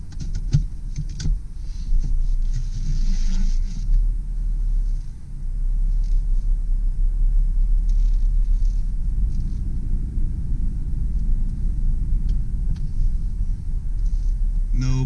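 A 1997 GMC Sonoma extended cab 4x4 pickup pulling away on a test drive, a heavy low engine and road rumble heard steadily from inside the cab, with a few clicks and rustles near the start.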